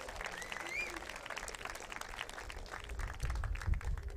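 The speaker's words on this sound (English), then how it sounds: "let's give him a big round of applause" An audience at a military academy's annual achievement awards gives a round of applause, dense clapping throughout with a voice faintly heard over it early on and a low rumble near the end.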